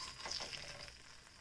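Sausage gravy thickened with flour and milk cooks in a pan, giving a close, steady sizzle with faint stirring.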